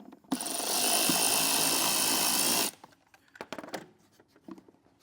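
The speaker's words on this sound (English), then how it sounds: "We're going to get this hose clamp loosened up." A power driver or drill whirs steadily for about two seconds while loosening a hose clamp on the air filter housing of a 2023 Jeep Gladiator, followed by quieter clicks and handling sounds of tools and parts, no talk.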